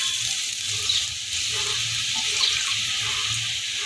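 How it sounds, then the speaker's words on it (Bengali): Water runs steadily into a mixing jar being rinsed of poppy seed paste in a kitchen, a continuous close splashing hiss lasting the whole stretch with no talk. "মিক্সিং জারটা ধুয়ে জল দিয়ে দিলাম যাদের মধ্যে অনেক পোস্ত লেগেছিলো"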